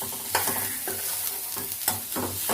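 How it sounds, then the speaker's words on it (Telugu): Chopped ivy gourd with turmeric and salt is stirred in a hot pan, a spatula scraping and knocking in a loose, repeated rhythm over a steady background sizzle, nearby with no talking. "కొద్దిగా పసుపు, రుచికి సరిపడిన ఉప్పు వేసుకొని బాగా కలపాలి"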